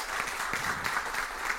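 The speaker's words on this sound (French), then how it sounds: "Je demande naturellement au public d'applaudir." A studio audience at a high-school quiz match claps for a correct answer. The applause is dense and fairly even and fills the whole moment, with faint voices beneath it.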